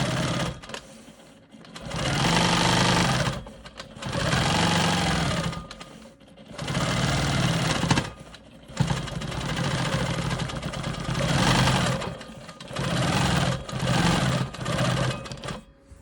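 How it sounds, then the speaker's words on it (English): A sewing machine quilts a diamond-pattern quilt block using ruler work, running in long steady bursts with brief stops between passes, loud and close with no talking. "I'm gonna go ahead and quilt down here."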